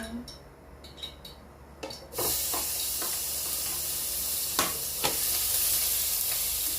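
Vegetables hit a hot pan for sautéing, starting with a few clinks of utensils before a sudden loud hiss that settles into a steady sizzle with occasional stirring scrapes.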